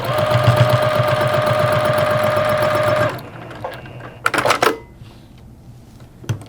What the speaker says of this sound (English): And I'm just going to finish up this seam.